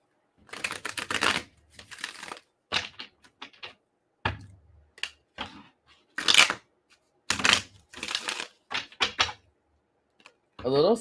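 A Rider Waite tarot deck is shuffled close by in a series of irregular, crisp papery bursts separated by short pauses, with no talk over them.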